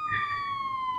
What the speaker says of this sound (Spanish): Espérese que quite la sirena.